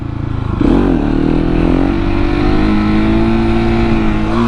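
Supermoto motorcycle engine in second gear during a wheelie, loud and close, rising sharply in a rev and then holding a steady, strained drone.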